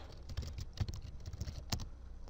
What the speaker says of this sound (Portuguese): Eu vou digitar aqui paisagens